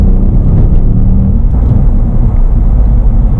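Ford Fiesta RED edition accelerating at full throttle in second gear from just under 2,000 revs, a loud, dense low engine rumble heard from inside the car, steady and continuous.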